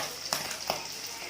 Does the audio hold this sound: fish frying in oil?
yes